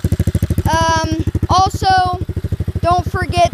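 A quad bike with a rattling chain while riding, a fast regular clattering beat from the drivetrain close by, steady throughout as a voice talks over it.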